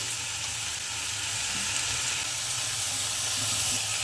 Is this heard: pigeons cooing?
no